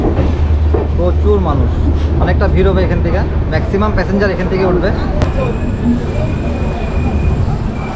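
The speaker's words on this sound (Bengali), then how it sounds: "গাড়ি এখন ঢুকছে কামাখ্যা জংশন।" A passenger train on the Guwahati to Howrah route pulls into crowded Kamakhya Junction station, its low steady rumble running beneath continuous close talk from a person on board.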